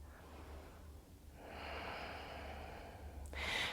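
Soft breathing during a morning vinyasa yoga flow: a quiet inhale builds into a longer airy exhale, then a sharper snort-like breath at the end, close and faint.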